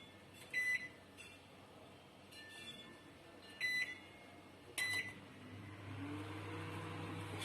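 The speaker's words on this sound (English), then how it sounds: "Before that I'll be putting the oven at 180 degrees Celsius for the preheating" Kitchen oven sounding short electronic beeps while being set to preheat to 180 °C, three separate beep bursts spaced a few seconds apart over a low hum, followed by a rising fan-like drone.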